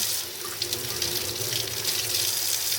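Hot water runs steadily from a tap over wet wool felt during wet felting, a continuous close hiss and splash with no talking.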